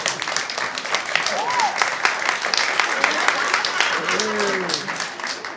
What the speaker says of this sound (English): The comedian finishes his act out to a small applause break